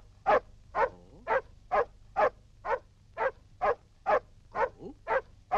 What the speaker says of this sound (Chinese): 狗叫说的什么话？